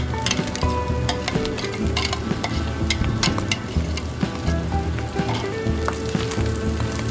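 Chicken liver and gizzards frying in a pan until crisp, a loud, continuous crackle and sizzle with frequent sharp pops and the clatter of stirring throughout.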